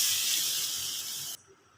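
Water hits a hot pan where a potato and chang fish dish is cooking, making a loud hissing burst of steam that cuts off abruptly after about a second and a half, leaving near silence, with no voices.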